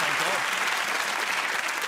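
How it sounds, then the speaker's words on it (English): Studio audience applause on a comedy game show, a dense steady wash of clapping that holds at an even level with no voices over it. "give her a round of applause."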